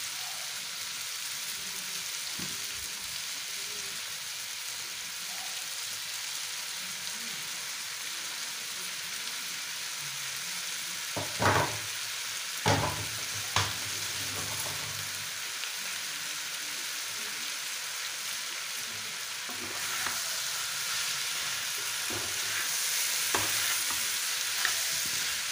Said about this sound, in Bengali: এর মধ্যে আমার কুচিয়ে রাখা চিকেনগুলো দিয়ে দিলাম আমি।